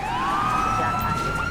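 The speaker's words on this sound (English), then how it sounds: "sirens" An emergency vehicle siren in GTA 5 fitted with the NVE Sounds mod, a rising electronic wail that climbs then holds its pitch, loud and close over faint traffic rumble.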